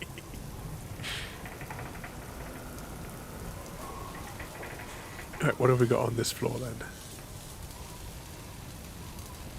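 Steady rain hisses through a Broken Sword 4: The Angel of Death game scene, with a short louder clatter midway and someone talking over it at times.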